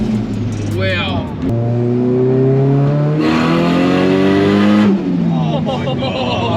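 A heavily modified, very loud Nissan S15 exhaust revs close by in bursts: a short blip, then sustained climbing revs that rise and drop back, harsh and booming.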